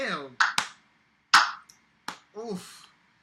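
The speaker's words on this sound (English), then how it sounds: "That Slow clap." A handful of slow, deliberate claps spaced well apart ring out close by, with casual voices talking between them.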